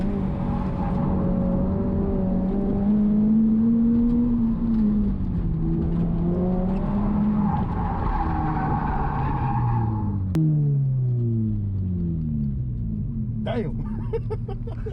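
A Subaru BRZ race car on Racecomp Engineering Tarmac II coilovers brakes hard on a track, its engine note dropping through sweeping downshifts with tire noise, loud and continuous from inside the cabin.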